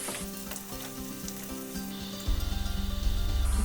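Potato rösti (hash brown) sizzling steadily as it fries in a pan, a continuous crackle that swells louder and more intense partway through, close and with no talking.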